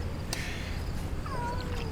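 A cat rescued during flood cleanup in Munster gives a short meow, a brief rising-falling cry close by over steady low background noise.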